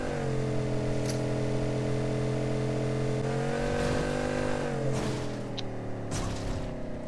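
A buggy engine drones steadily in a video game, a continuous buzzing motor that rises slightly in pitch midway, with a few faint clicks over it.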